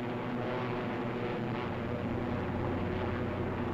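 Propeller-driven fighter aircraft flying in formation, Thunderbolts climbing to rejoin the squadron, make a dense, loud, continuous engine drone with a deep rumbling low end and no voices.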